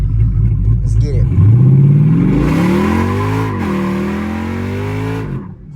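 A straight-piped, cammed Jeep SRT8 in sport mode launches with a loud, rough, choppy exhaust roar that rises in pitch, dips, then holds steady. Voices are heard underneath.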